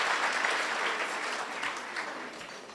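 An audience claps steadily at an evening marketers' event in Nairobi, a dense, sustained wash of applause that holds nearly even for the whole stretch and tapers only slightly at the end.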